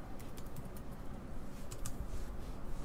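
Someone types on a computer keyboard during final assembly and testing of an ELF2K computer kit. The keystrokes come as scattered, crisp clicks over a steady background hum.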